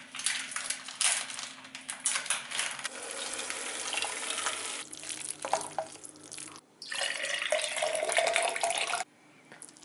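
Water from a tap runs and splashes into a pot for spaghetti, with intermittent pouring, a clank of metal cookware and a brief gap before the flow resumes more forcefully.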